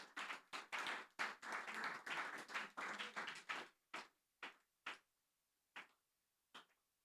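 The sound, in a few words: audience applause at press conference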